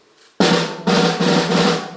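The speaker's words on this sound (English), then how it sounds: "Gene's snare drum is this" A snare drum strikes sharply once, then several more hits follow in a loose rhythm, each a bright, crisp crack with a rattling buzz, close and loud.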